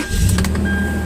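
A Toyota 4Runner engine turning over after sitting unused for a couple of days, a short, loud burst of cranking and catching that settles into a steady running hum, heard up close with no talking.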